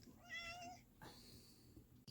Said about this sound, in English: My cat is purring right next to the phone